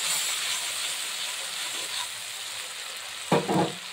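Chili powder paste, premixed with water, sizzles and hisses steadily in a hot pan, with a couple of brief scraping stirs near the end.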